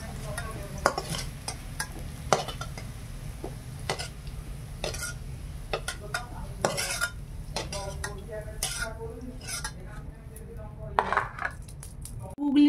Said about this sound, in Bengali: গুগলিটা ভাজবো